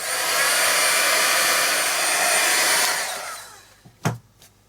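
A hair dryer blasts steadily and loudly for about three seconds, drying a damp art journal page, then cuts off, leaving a couple of faint knocks and handling sounds.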